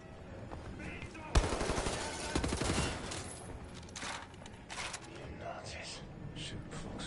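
Bursts of automatic gunfire ring out in the video game TNO, a sudden loud volley followed by scattered shorter rattles and single shots, with speech heard over parts of it.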